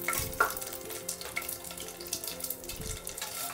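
Curry leaves hitting hot oil in a pan, giving a close, bright sizzle and crackle with a couple of sharper spits over a steady frying hiss.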